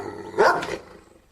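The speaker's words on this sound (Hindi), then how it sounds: "टॉमी गुड़िया के ससुराल आता है और जोर जोर से भौंकने लगता है।" A dog barks loudly once or twice in a short, close burst, then quiets, with no talking.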